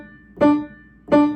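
Piano keys tapped in a beginner primer rhythm game: two clean, separate note strikes, each decaying smoothly, played close and alone.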